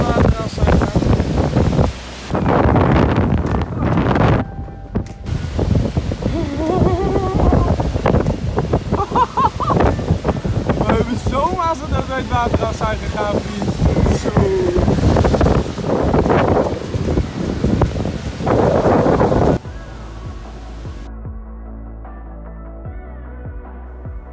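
Strong storm wind buffets the microphone on the river IJssel, roaring in heavy gusts with rustling and water noise before dropping to a quieter hum near the end.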